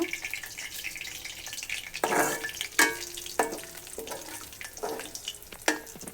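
Spices frying and being stirred in a hot pan for a Bengali home-cooked dish, a steady sizzle broken by several sharp scraping stirs at irregular intervals, close and fairly quiet.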